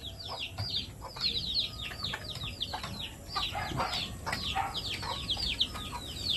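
Chickens cluck and chatter close by, many short overlapping calls in a steady busy stream over light outdoor background noise.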